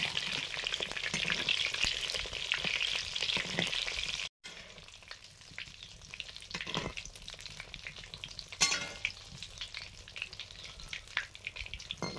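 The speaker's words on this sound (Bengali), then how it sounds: "হালকা আছে ভাজতে শুরু করে দিয়েছি।" Sweets for Rakhi Bandhan sizzle steadily as they fry in a pan, with scattered crackles and a few stirring clinks, close and fairly loud, a brief break partway through, and no voices.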